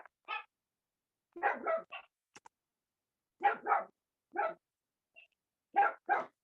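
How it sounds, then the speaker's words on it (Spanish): A pet dog indoors barks in scattered bursts of one or two sharp yaps separated by silent gaps, fairly faint and distant as if heard from another room. "disculpen si se oye mi perro"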